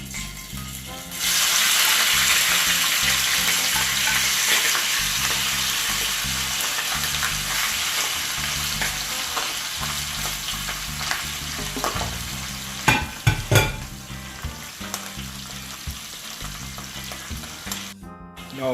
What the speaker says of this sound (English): put our pork to fry